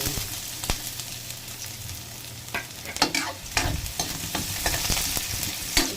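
Garlic and onion sautéing in oil for pork dinuguan, a steady hiss of frying that swells into louder crackling bursts as a utensil scrapes and stirs the pan, close by, with no one talking.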